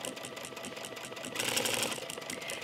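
Sewing machine stitching a buttonhole on a top's neckline placket, a steady close whir of rapid needle strokes that grows slightly louder and faster midway, with no talking.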